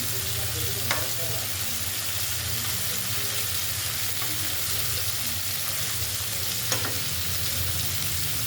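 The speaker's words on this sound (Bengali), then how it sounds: "এখন মাছটা ভাজা নিতেছি" Fish frying in a pan on a home stove, a steady dense sizzle that runs unbroken throughout, close and fairly loud, with a few faint clinks and no talk.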